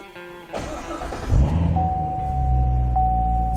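A 2019 Corvette Grand Sport engine cranks and catches on a hot day, then settles into a steady low idle with a faint high whine running through it.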